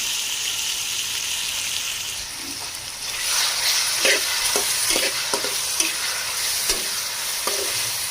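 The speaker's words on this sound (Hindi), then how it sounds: "अच्छे से इसे फ्राई करेंगे 3 से 4 मिनट" Boneless chicken fries in a pan with a steady, bright sizzle that grows louder partway through, punctuated by scattered taps and scrapes of stirring.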